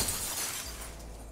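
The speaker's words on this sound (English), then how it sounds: "You're gonna have to break the glass." Glass breaks in the zombie survival game Humanitz, a single sharp shatter with a bright crash that tails off quickly into a brief tinkling decay, close and alone.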